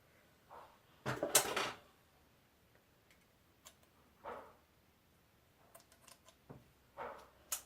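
Scissors cutting a long hair wig, giving scattered close snips and short crisp rustles, one louder burst near the start followed by lighter irregular cuts in a quiet room.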